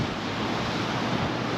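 Steady sea waves washing onto a Moroccan beach, a continuous broad roar of surf mixed with wind noise, with no voices.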